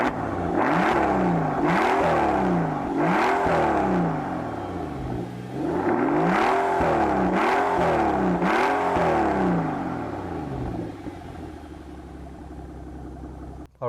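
A Mercedes-AMG S65 with a V12 engine revs and accelerates in repeated rising surges, close and loud, each climb in pitch falling back between gear changes, with a steady drive tone throughout.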